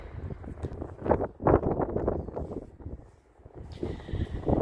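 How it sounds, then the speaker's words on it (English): Seaside wind buffets the microphone in low, rumbling gusts that swell and fade unevenly, with a brief lull before picking up again. "It's a bit windy, which is great for me because I'm not gonna melt. It's just usually not great for the sound."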